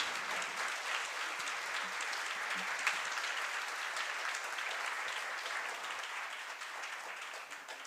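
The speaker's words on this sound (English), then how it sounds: "A round of applause, guys" An audience in a hall claps steadily for a performer at a women-in-work event, a dense, even wash of applause sustained from start to finish at moderate distance, no voices above it.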